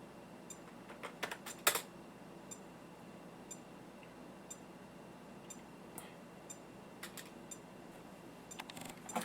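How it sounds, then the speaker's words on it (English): Keys are typed on a computer keyboard while a command is entered on a PC for a Nintendo Game & Watch hack, heard as faint, sparse clicks with a louder burst of keystrokes near the start and a few more at the end. "We're going to type in this command here, which will be in the video description."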